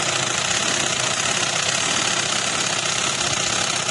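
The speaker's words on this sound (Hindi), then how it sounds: "उसके इस साइड पे सिलाई लगाते हुए जाएंगे आप इस साइड पे" Sewing machine stitching white trouser fabric, a steady, continuous motor whir and rapid needle rattle running loud and unbroken throughout with no talking.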